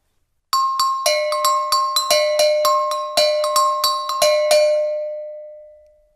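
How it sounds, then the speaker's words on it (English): A set of go-go bells from a world percussion class pack is struck in a quick, uneven rhythm, about a dozen bright metallic clinks alternating between two pitches, then the final ring fades out alone. "and a set of go-go bells"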